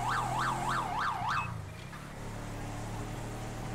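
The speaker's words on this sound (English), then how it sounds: "So that's why I'm turning off my siren." A police car siren in a GTA 5 police mod video game wails in fast repeating up-down sweeps for about a second and a half, then cuts off, leaving a low engine hum.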